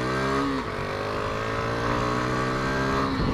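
A Yamaha Factor 150 motorcycle pulls away from a traffic light with a loud, close engine note that dips briefly before climbing steadily under acceleration, with no voices.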